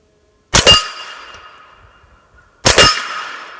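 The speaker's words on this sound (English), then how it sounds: "Let's see how that works on this 10-inch gong." Two loud, sharp suppressed 9mm shots from a PSA AKV rifle strike a 10-inch steel gong about two seconds apart, each impact ringing with a bright metallic clang that decays slowly.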